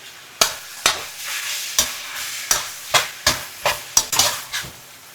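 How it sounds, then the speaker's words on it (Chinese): Noodles and egg stir-fried in a wok, with a steady run of sharp spatula strikes and scrapes against the metal about every half second over a soft sizzle, close and loud with no talk. "加入面条和鸡蛋，快速翻炒约1分钟至混合均匀。"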